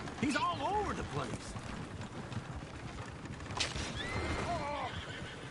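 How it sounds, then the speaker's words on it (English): Horses whinny and neigh repeatedly in a PS4 video game, with rising-and-falling calls near the start and again later, over a steady bed of clip-clop hooves and background game noise while someone talks. "Oh, shit, the horses! Is one of you gonna get that fella's horse?"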